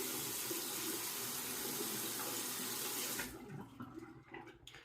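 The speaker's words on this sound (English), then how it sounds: "I'm going to rinse the razor" A razor is rinsed under a running tap, a steady close stream of water splashing for about three seconds before it is shut off and only quieter trickles and small handling noises remain.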